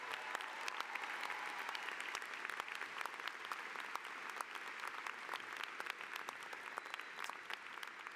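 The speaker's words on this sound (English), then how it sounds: "Let's have a round of applause for them as well." A commencement audience applauds in honour of armed forces members serving in Iraq and Afghanistan, a steady, dense wash of many hands clapping at a distance, fairly soft and sustained throughout with no talk over it.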